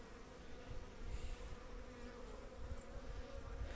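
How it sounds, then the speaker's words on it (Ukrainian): A steady, dense buzzing of many honeybees flying outdoors on January 2, continuous and fairly close throughout. "щоб 2 січня бджоли літали"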